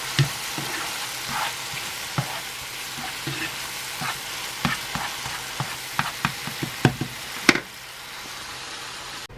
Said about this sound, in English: now I got some mushrooms going. Put a little beef bouillon in there with them